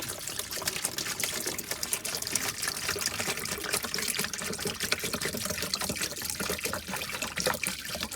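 Liquid pours steadily into a boat's sink drain during water system winterization, a continuous trickling and splashing at close range with no voices.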